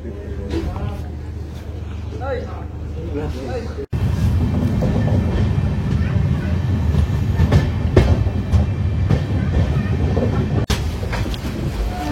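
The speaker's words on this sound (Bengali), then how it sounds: "কি সুন্দর ট্রেনটি অ্যাপ্রোচ করছে, পেকে পেকে অ্যাপ্রোচ করছে" The Amrit Bharat Express rolls into a station in West Bengal, a loud rumbling wagon roar with rhythmic clatter building after a brief lull, while someone speaks early on.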